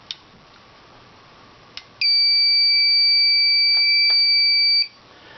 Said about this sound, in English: Got an alarm on zone 1.